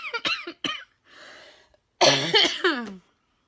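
A person coughs repeatedly in a close, dry fit: a pair of sharp hacks, a raspy breath, then a louder cluster of harsh coughs, with no speech.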